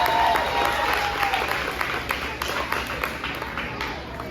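Steady audience applause at an end-of-year school ceremony, a dense roar of many hands clapping for a student, sustained and fairly loud throughout, slowly easing off toward the end.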